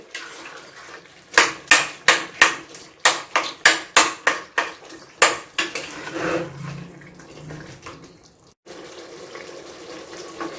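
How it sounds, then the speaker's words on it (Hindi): A spoon strikes and breaks up chunks of beetroot and meat in a cooking pot, about a dozen rhythmic knocks in a row, followed by softer clatter and a quieter bubbling stretch. "उसमें से हल्का सा इसको चम्मच मार के इसको कुछ को हम तोड़ देंगे और कुछ को साबुत ही रखेंगे, और इसको साथ साथ हम भून लेंगे"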